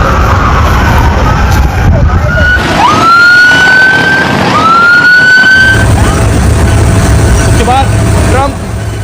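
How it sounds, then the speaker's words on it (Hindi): Sirens from vehicles in Donald Trump's motorcade at a hospital, rising and falling wails sweeping up repeatedly, loud and close amid traffic rumble, with voices talking underneath. "ये आप देख रहे हैं, ये ट्रंप का काफिला है"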